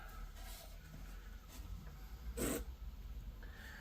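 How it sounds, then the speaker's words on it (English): A small file rasping the burr off the cut end of a metal watch part, several short, light scraping strokes close by, with one louder stroke near the end and no talking. "What we're doing is taking the burr off any little sort of shards of metal that might be on the end."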